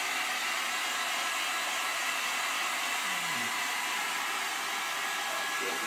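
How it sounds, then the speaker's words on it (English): An 800 watt heat gun blows continuously, a loud, steady airy whoosh with a hissing high end, used to melt cheese on pizza; it runs unbroken throughout with no voices. "It's a 800 watt heat gun."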